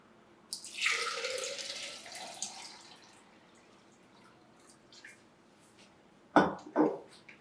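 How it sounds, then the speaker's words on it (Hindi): One litre of water is poured into a container for falsa juice: a loud rushing pour for about two seconds, a quiet pause, then two short, sharp splashes near the end. "सबसे पहले पानी डालेंगे 1 लीटर"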